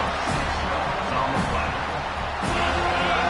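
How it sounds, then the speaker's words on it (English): A packed football stadium crowd roars for a Florida State game's defense on third down, a dense sustained wall of cheering with a commentator talking over it. "Decibels rising as the crowd gets behind this defense on 3rd down."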